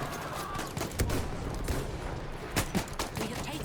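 Pistol gunfire in the Battlefield 1 video game: a quick series of sharp shots and bursts over a constant battlefield din, with several loud cracks spaced across the short stretch and no speech.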